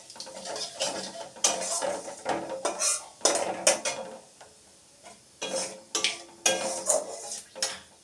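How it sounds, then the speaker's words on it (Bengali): Tomato and ginger paste goes into a wok over black cumin seeds and is stirred, with repeated metal clanks and scrapes of a spatula against the pan in bursts, close by and over a faint sizzle. "এবার যে আমি টমেটো আর আদা পেস্টটা করে এনেছি সেটা আমি কিছুটা দিয়ে"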